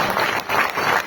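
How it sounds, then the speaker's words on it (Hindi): Seminar audience applauding, a short burst of loud, close clapping in uneven waves for about a second. "तो जोरदार तालियां"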